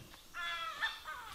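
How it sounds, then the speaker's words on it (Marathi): A wild jungle fowl hen calling in a dense forest near a hill fort, a few short raspy calls close by and fairly faint, with no talking. "तो जो तुम्हाला पक्षीचा आवाज येतोय ना, ती आहे रान कोंबडी."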